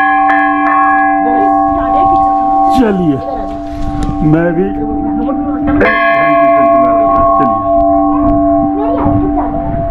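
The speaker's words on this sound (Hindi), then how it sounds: "घंटी एक बार बजाइए।" A large temple bell at Golu Devta Ghorakhal Temple, Nainital, rings out, struck once near the start and again midway, its tones sustaining and slowly fading while people talk nearby.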